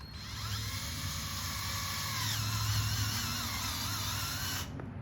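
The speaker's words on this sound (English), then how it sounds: "get a drill bit and drill it right down the middle" A high-pitched drill whines steadily for several seconds, pitch shifting slightly as it bites into a rubber seal, then cuts off near the end.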